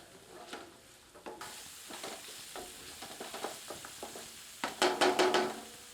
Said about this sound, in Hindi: सबको मिलाकर 2 मिनट धीमी आंच पर भूनते हैं।